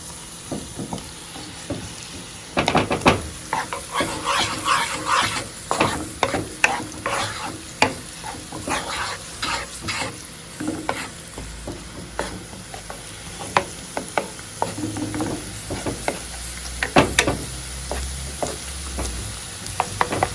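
Garlic fries gently in a pan over a medium-low flame. A soft, steady sizzle runs under repeated scraping and stirring strokes with irregular clicks and knocks, and the sound stays fairly close and moderate in level with no talking.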